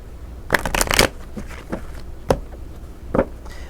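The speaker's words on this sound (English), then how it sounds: "let's go ahead and do a quick little shuffle here, and then we're going to cut them" A deck of tarot cards is riffled and shuffled up close, a quick burst of crisp fluttering snaps followed by a few isolated taps and slaps as the cards settle.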